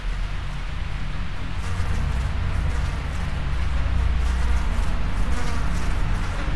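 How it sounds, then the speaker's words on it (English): Bees swarming in the video game Tesla Effect give off a steady, dense buzzing drone that stays close and constant throughout, growing slightly louder toward the end, with no voices. "there's no way I'm strolling casually through there with all these bees buzzing around"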